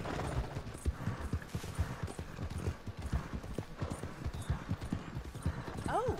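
A horse gallops in the Red Dead Redemption 2 video game, steady rhythmic hoofbeats clip-clopping close by over a low ambient bed, with a brief whinny at the end.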